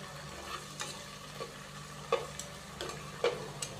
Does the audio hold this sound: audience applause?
no